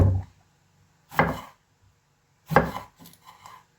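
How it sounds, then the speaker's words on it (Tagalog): A knife chops eggplant into thin slices on a board, giving three separate close thuds about a second apart. Each thud carries a short crisp edge, and the gaps between them are quiet, with no voices. "Iwain natin ng maninipis."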